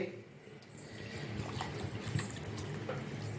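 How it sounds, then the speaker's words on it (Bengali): Room-temperature water poured into sugar to dissolve it for a roasted mango sharbat, a steady close splashing pour with a soft background hum throughout. "আমি এবার একটু নর্মাল জল দিয়ে নিলাম"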